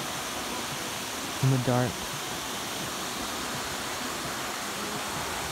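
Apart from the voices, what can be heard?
flowing water of a stream at night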